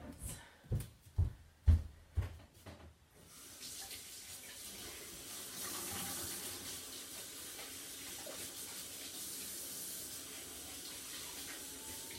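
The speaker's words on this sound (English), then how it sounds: "So first of all, I'm going to wash my hands." Tap water running at a sink during handwashing, a few sharp knocks and splashes first, then a steady soft stream of running water filling the rest.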